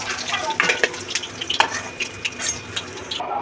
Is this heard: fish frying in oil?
yes